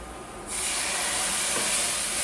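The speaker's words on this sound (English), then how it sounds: "You hear that steam?" A loud, sustained sizzling hiss of steam bursts up from a hot pan of smothered steak as Worcestershire sauce goes in, holding steady, close by, with no voices.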